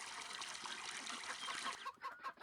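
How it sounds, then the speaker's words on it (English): Chickens clucking on a farm in the Farming Simulator 22 video game, faint and near, with a trickle of water running beneath, then a few separate clucks as the water fades. "Just going to tend to these chickens and ducks real quick here."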